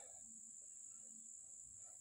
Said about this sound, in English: Instead of birds, we got cicadas or whatever you call them, bug things.